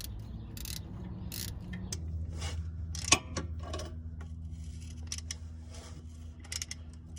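Mechanical ratcheting clicks from a socket wrench loosening the lower starter bolt underneath a 2006-2011 Honda Civic, close up, with a sharp metallic snap midway and quieter clicks and taps around it.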